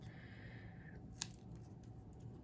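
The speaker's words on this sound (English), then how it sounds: "So I'm just gonna cut myself a little piece out." Scissors cut a small piece of double-sided foam, a quiet, close snip with one sharp click midway over a low background hum.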